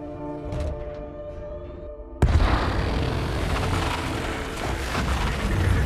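A gunfire shootout in a film scene begins with a sudden loud boom-like blast, followed by dense, continuous crackling and rumbling of weapons and action noise that stays loud to the end.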